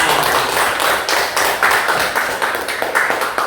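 Classroom of schoolchildren clapping their hands together in a steady, fairly loud burst of rapid claps that continues throughout, with no talking over it.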